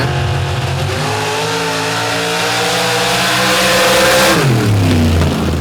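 Superstock drag racing cars launch off the starting line at a 2024 MRA event in Steelville. Loud engines roar steadily and rise, then the pitch drops away sharply near the end.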